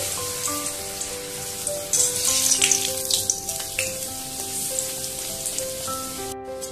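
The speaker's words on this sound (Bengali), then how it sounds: "তো আমি কড়াতে সাদা তেলটা দিয়ে দিচ্ছি। এবার আমি পাঁপড়গুলো একবারে সব ভেজে নিচ্ছি।" Papad frying in white oil in a wok, a close, busy crackling sizzle that swells partway through, with steady tonal music underneath.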